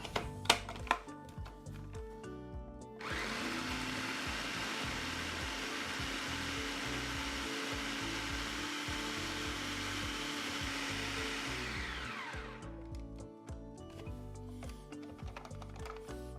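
A blender whizzes leftover cheese into fromage forte with a steady, loud motor whine for about nine seconds, then spins down. Scattered kitchen clatter can be heard before and after.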